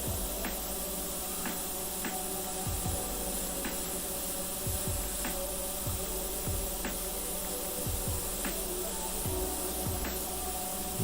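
Paint hisses from an airbrush in short repeated bursts onto a model, steady spray noise broken by soft clicks and pauses, close and fairly quiet with no voices.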